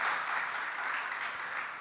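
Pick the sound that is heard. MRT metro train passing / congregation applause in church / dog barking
congregation applause in church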